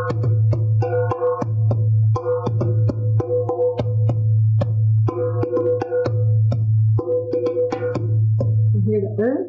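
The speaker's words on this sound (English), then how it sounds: "or the dumbek, which is this goblet-shaped drum." A goblet-shaped dumbek drum held across the lap plays a fast, steady rhythm of deep resonant doum strokes and sharp higher taps, close and loud, repeating in even phrases with no voices.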